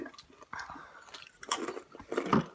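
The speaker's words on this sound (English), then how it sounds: "I'm only chewing on one side of my mouth." Crunchy Hot Cheetos and Takis being chewed close to the mouth, with irregular bites and crunches that grow louder toward the end, briefly broken by a short breathy vocal sound.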